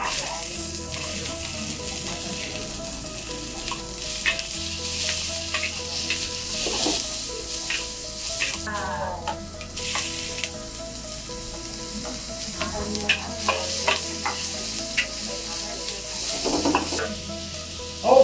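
Onions sizzle and hiss steadily in a hot pan during a chicken stir-fry with garlic and bell pepper, broken by repeated scraping and stirring strokes and an occasional clink of the utensil against the pan.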